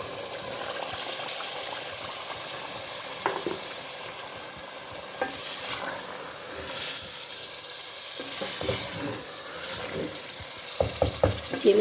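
White lobia beans stirred into a frying masala gravy in a pan, with steady sizzling and bubbling under irregular scraping and clanking of the spoon, growing busier toward the end; no talking.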